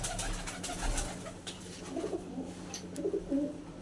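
Fancy pigeons of a prized breed coo softly in a few low, rolling phrases over a constant hum and faint background noise.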